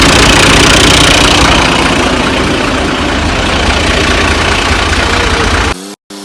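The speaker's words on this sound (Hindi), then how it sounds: "ट्रैक्टर फंसते फंसाते बाग में से निकल के आ तो गया है" A tractor engine that just worked free from a ditch in an orchard idles loud and close with a constant rumbling drone, then cuts off sharply near the end.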